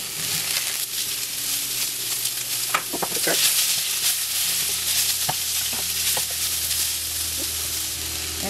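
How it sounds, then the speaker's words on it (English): Asparagus and shallot sauté in a hot pan, a steady sizzle broken by several sharp stirring scrapes and clacks of a utensil, close and alone. "We're gonna stir this again."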